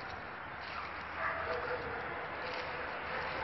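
A street dog with her puppies gives faint, high yips and whimpers, barely rising above a steady outdoor background hiss.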